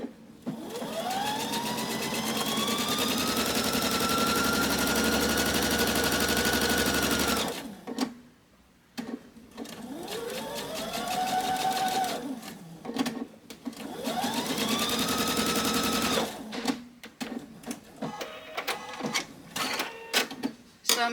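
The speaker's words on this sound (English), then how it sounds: "sometimes when you're sewing a 1/4 inch seam allowance" A domestic sewing machine stitching pieces of a chandelier quilt along a quarter-inch seam runs in long, steady, whirring bursts of several seconds, its motor pitch rising as it speeds up, with short pauses between runs, close and loud.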